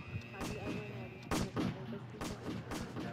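Sharp, booming gunshots in a Roblox Squid Games match crack out at close range, a handful of separate blasts spaced about a second apart over background game noise and chatter.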